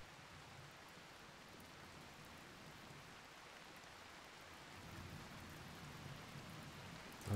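Steady rain falls in the colony simulation game RimWorld, a continuous soft hiss of drops with no voices, swelling slightly louder near the end.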